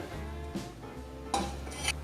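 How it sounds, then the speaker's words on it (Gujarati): A pot of sugar syrup for kala jamun is lifted off the heat and set down on a metal stand, giving a few soft metallic clanks and clinks in a quiet kitchen. "તો તેને આપણે એક નીચે ઉતારી સ્ટેન્ડ ઉપર મૂકી દઈએ"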